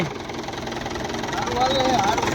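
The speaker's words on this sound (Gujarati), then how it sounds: "અત્યારે ટ્રેક્ટર ચેડવા આવી ગયું" A tractor engine runs at a steady idle-like chug in the background, continuous and moderately loud, while people talk over it.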